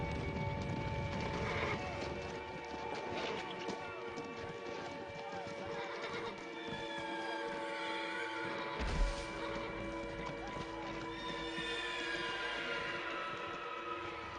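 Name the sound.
horses neighing and hooves clip-clopping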